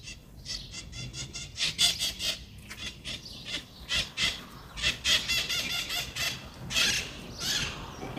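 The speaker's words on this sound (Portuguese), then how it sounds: "com esse som dos pássaros" Outdoor birds in a garden where desert roses are being pruned, giving a busy run of shrill, squealing calls in bursts, fairly faint and somewhat distant, with no talk.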